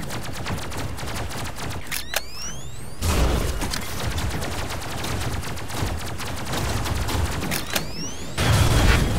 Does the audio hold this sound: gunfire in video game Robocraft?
yes